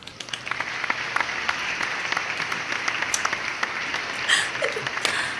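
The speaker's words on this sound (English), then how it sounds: "Applause." Brief burst of applause, moderately faint, with scattered sharp claps over a steady wash of clapping that continues to the end.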